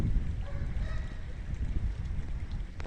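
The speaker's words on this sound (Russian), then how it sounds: "Сильный ветер начался." Strong wind buffets the microphone outdoors on a February evening, a steady loud low rumble with gusty fluctuations throughout and no talk.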